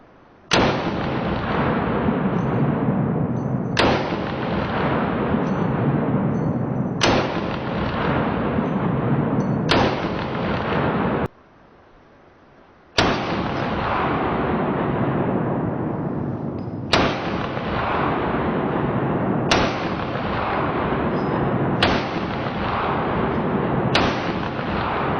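AR-15 rifle fired outdoors, a series of loud, sharp single shots spaced a few seconds apart, each ringing off with a long decaying echo, with one brief quiet gap midway.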